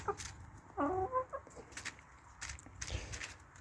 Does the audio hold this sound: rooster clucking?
yes